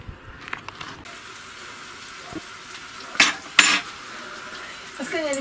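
Kefir flatbreads fry in a pan in a home kitchen, with a soft steady sizzle under a few sharp clanks of dishes and cutlery and a brief rush of water near the end.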